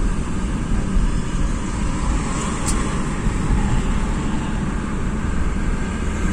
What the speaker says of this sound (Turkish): E5'e girdik. Şeritimiz belli. Sabit bir hızla ve takip mesafemize dikkat ediyoruz artık.